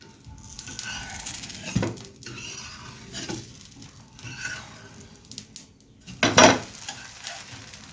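Soft sizzling of uttapam cooking in a covered pan on the stove, with occasional clinks and scrapes of utensils and a brief louder clatter near the end.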